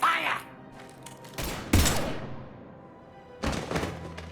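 Gunfire in the video game Mass Effect 3, a few separate heavy shots and thuds in bursts with quiet gaps between them, alongside game sounds.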